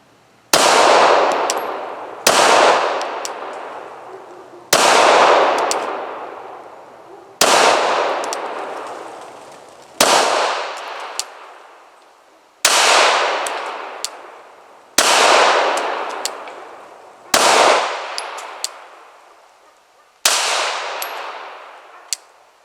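Ten hand-loaded rounds fired one after another at a target on an outdoor range, each shot a loud sharp crack with a ringing decay, spaced roughly two seconds apart with no talking.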